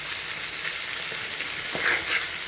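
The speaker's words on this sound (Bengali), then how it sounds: "আলু টমেটো পেঁপে মিষ্টি কুমড়া গাজর বরবটি বেগুন সব কিছু দিয়ে একটা সবজি ভাজি করছি" Potato, tomato, papaya, pumpkin, carrot, long beans and eggplant fry together in a pan, giving a steady, close sizzle with a few soft stirring scrapes.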